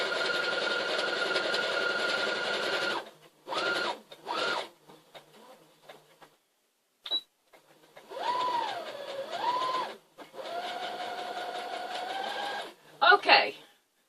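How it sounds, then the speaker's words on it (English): Bursts of a sewing machine whirring in runs of several seconds, separated by short pauses and small handling clicks, close by. "I'm trying to learn how to sew all over again with a new sewing machine"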